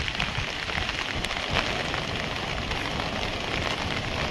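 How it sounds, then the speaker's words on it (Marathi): Heavy monsoon rain pours onto a waterlogged road in a Konkan village, a dense, steady hiss of countless drops spattering on water, continuous and loud with no talk. "किती पाऊस पडलाय रात्रभर पाऊस चालू आहे गावी"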